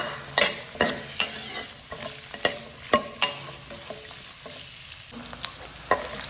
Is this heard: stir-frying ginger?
yes